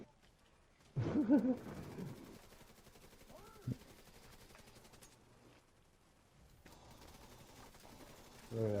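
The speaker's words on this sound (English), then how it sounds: "They're shooting him in the back now." Gunfire in The Division 2 video game: a loud burst of rapid automatic shots up front, a single sharp report midway, then scattered fainter fire, with people talking over the action.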